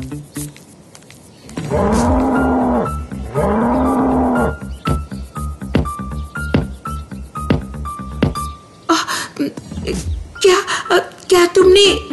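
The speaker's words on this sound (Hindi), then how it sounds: "ये भालू है।" Cartoon bear in a dark forest growls in long, loud rumbling bursts, followed by a run of rhythmic knocking and tonal effects and more scattered noises.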